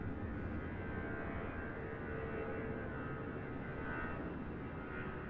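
Airplane departing Raleigh Durham International Airport, a steady, fairly faint broad engine roar that holds without breaks, heard alone at a distance.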